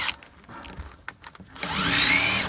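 A power drill briefly drives a screw into a wall to locate a stud, preceded by a few scattered knocks and taps, then a sustained rising whine of the motor lasting about a second.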